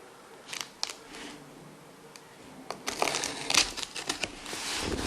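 Razor blade slicing through packing tape on a heavily taped gift package, a run of crisp scraping and crackling strokes, sparse at first and then denser and louder, close by with no talk.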